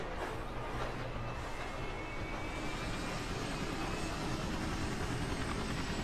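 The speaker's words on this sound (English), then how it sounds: "I'm in the chopper, coming your way." A helicopter flying in a video game, a steady droning engine roar with a slowly shifting whine, holding at a constant level throughout with no talk over it.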